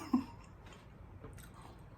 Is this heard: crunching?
yes